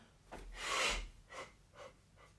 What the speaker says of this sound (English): I inhale through the nose and then exhale.